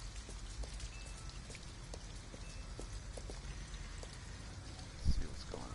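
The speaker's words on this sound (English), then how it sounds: "At least we'll be out of the rain." Steady rain falls across an outdoor street scene in Detroit: Become Human, a dense, even patter with scattered drop ticks throughout and a brief thump near the end.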